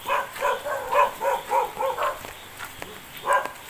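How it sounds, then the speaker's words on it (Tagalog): Dogs bark in quick repeated bursts, several barks in a row at moderate distance, then a pause before another short barking run. "Ito, may aso pa."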